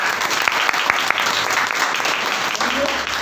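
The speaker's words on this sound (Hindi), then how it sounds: "एक बार और जोरदार से ताली" An audience at a business income-plan event claps loudly and steadily, a dense sustained applause close by, with a voice speaking over it at points.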